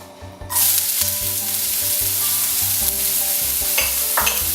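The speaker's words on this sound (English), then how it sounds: "We're gonna heat up a skillet with some olive oil. And then to that, we're gonna add half a purple onion chopped." Half a chopped purple onion hits hot olive oil in a skillet, bursting into a loud sizzle after a quiet start, then crackling on with utensil scraping and stirring, no voices.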